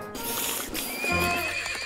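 A cartoon horse ridden by a skeleton neighs loudly in a long, wavering whinny, with clip-clopping hooves beneath it, close and alone without any talk.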